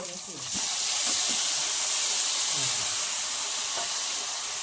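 Chopped tomato fries lightly in oil with ground spice paste for a fish curry, starting with a brief stirring clatter, then settling into a loud, even sizzle that holds close and steady throughout.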